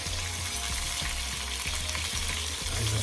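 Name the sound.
chicken breasts frying in a pan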